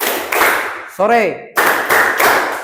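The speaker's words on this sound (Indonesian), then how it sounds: "Kalau saya ucapkan selamat siang, tepuk tangannya 2 kali." A classroom of students claps on cue in short, sharp bursts of two. The claps land in separate groups, and a brief spoken word comes between them.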